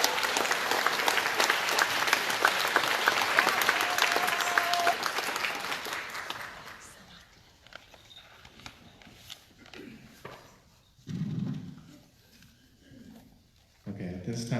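An audience at the opening of the 2019 Minidoka Pilgrimage applauds warmly for about six seconds before the clapping dies away, leaving quiet room noise and scattered sounds with brief voices.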